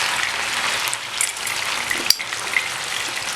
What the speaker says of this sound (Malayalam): ആ സൈഡും കൂടെ ഒന്ന് ഫ്രൈ ആയി വരട്ടെ.